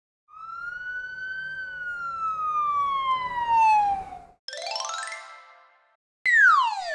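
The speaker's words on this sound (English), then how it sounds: "One, two, three red police cars." Police car siren in a children's animated cartoon, loud and close: a long descending wail followed by two shorter rapid sweeping bursts separated by brief silences.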